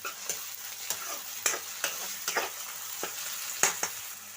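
Sliced onions and tomatoes are stirred in a hot frying pan for a field bean and tomato curry, with a soft continuous sizzle broken by repeated scraping strokes of a spoon, close and steady, no voices.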